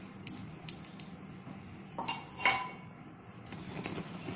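Milk being stirred in a large pot while cooking gives scattered metallic scrapes and clinks of a spoon against the pot, light and irregular over a quiet background.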